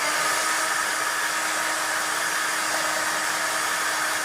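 A hair dryer blows steadily on a watercolor painting to dry the paint, a loud, continuous broadband whoosh that holds evenly throughout with no talking.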